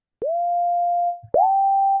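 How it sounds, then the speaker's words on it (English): A clean synthesizer sine wave sounds as two sustained pure notes, each starting with a click, the second slightly higher and pitched with a faint wobble, alone with no voices. "I use it on so many tracks that just that sine wave, you can play chords with it"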